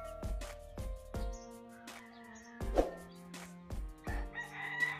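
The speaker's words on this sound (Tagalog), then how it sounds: "Maraming manok." Roosters crow repeatedly on a farm crowded with chickens, several overlapping cock-a-doodle-doos at moderate distance, with sharp knocking sounds and faint clucking between them.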